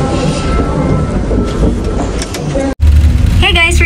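Rain falls outside a sky capsule in Busan on a foggy, wet day, heard as a steady, dense wash of noise that cuts out briefly near the end before resuming.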